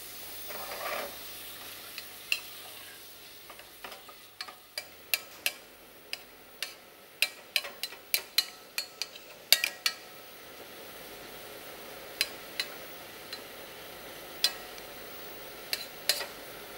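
Sliced leeks sweating in a pan: a soft, steady sizzle with scattered sharp clicks and taps of a utensil stirring, quiet and close, with no talking.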